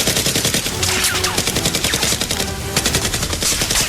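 Dense, continuous gunfire from an action film fight scene with Nerf guns, a loud, unbroken barrage of rapid shots and bursts filling the whole stretch with no talk.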